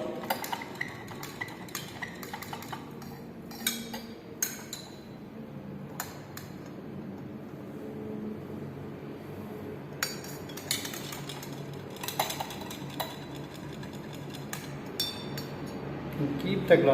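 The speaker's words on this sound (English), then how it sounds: "Again, mix both of the solution with the respective glass rods." Glass rods stirring solutions in laboratory test glassware during a limit test for iron, giving scattered light glassy clinks and taps at irregular intervals over a steady low room hum.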